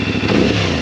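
A CFMOTO 450SS motorcycle on its stock exhaust gives a brief, loud, close rev with a throaty rumble.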